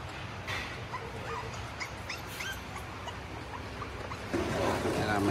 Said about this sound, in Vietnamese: Đây là đàn con của Gato này